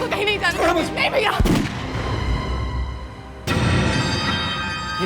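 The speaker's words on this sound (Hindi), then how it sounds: "गोली चलने की आवाज है" Gunfire cracks out in a dramatic scene, two loud sharp reports with heavy booming tails ringing over a dense background score.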